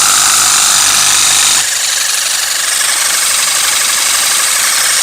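A Kaltmann Titanium KTI-MA20VSET cordless pressure washer motor runs loudly and steadily on high mode, a constant buzzing whir that shifts pitch slightly early on and then holds.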